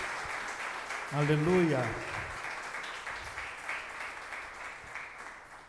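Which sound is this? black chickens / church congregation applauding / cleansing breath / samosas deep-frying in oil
church congregation applauding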